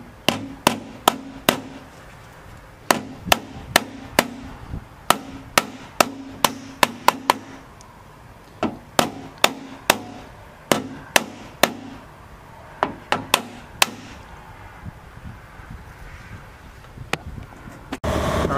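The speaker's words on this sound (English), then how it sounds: "I'm gonna get my dolly and hammer, start tapping it and try to get it out." A hammer against a dolly taps a dent out of a car or truck body panel, sharp metallic strikes in quick irregular bursts with short pauses between runs, close and alone.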